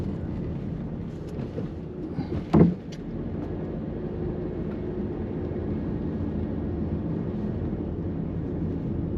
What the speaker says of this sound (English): already there's an oncoming car coming